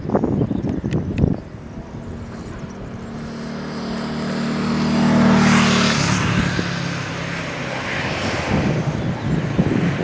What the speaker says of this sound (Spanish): Eso parece un Porsche.